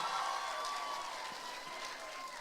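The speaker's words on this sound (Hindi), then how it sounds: "Clapping for that. जोरदार तालियां." Steady applause from a large audience at a public talk event, dense clapping filling the whole stretch at an even, fairly loud level with no voices over it.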